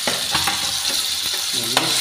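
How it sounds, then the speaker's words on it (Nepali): Finely chopped tomatoes sizzling in a pan with ginger, chili, garlic, cumin and coriander, a steady close frying hiss with a few scrapes and knocks of stirring. "सकेपछि मैले यहाँ काटेर राखेको मसिनो काटेर राखेको टमाटर हालेँ।"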